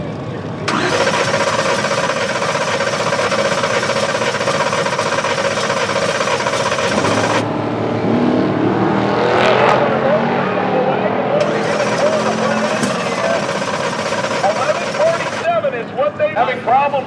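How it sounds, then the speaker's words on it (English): A Mercury wagon drag races at a Sick Summer event, lifting into a wheelstand; a loud, close engine roar runs for several seconds, drops to mixed lower noise, then a second sustained roaring burst follows before fading. "Mercury wagon. This is the wheel standing."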